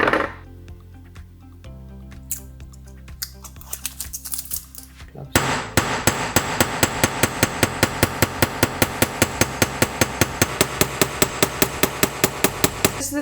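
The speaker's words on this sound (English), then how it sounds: "This is the first time I'm doing some major hammering in my new flat, so I just realized it's really loud." A hand hammer strikes metal for a handmade jewellery necklace in a flat: a few scattered taps, then a fast, steady run of loud, ringing metallic blows close by.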